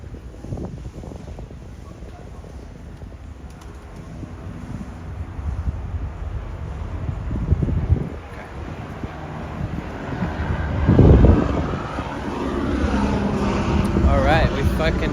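Wind buffets a microphone outdoors on a Los Angeles street, a steady low rumble with a stronger gust near the end, while passing traffic and voices sound underneath.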